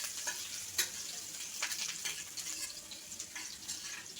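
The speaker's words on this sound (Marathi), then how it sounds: "लसूण आणि आलं फ्राय झालं पाहिजे चांगलं" Garlic and ginger fry in a pan over high heat while cooking paneer chilli, making a continuous crackling sizzle at close range. A few brief scrapes from stirring break through it, with no speech.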